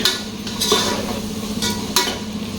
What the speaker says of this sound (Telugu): ఇక మంచిగా ఫ్రై చేసుకోవాలంట చూడండి ఇక్కడైతే మిక్స్ చేసుకుంటున్నారు